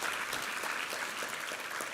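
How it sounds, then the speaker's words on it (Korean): A church congregation at Sunday worship claps in praise, a soft, steady wash of many hands heard at a distance, with no voices over it. "우리 하나님께 감사와 영광의 박수 올려드리겠습니다"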